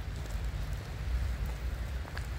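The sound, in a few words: heavy rain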